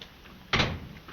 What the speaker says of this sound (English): Monsieur, I shall have to ask you to open the door.